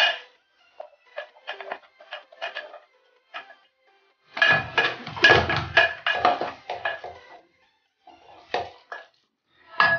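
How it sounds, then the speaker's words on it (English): Spoon scraping and clinking inside a cooking pot as ginger, salt, paprika, garam masala and black pepper are stirred into goat biryani, in short intermittent bursts with a longer busy stretch in the middle, close and fairly clear. "Then I'll give this a quick stir."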